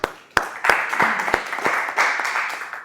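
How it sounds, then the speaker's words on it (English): A small audience claps at a public speaking workshop, opening with a few sharp isolated claps that swell into a brief, moderately loud round of applause. "Give me a round of applause"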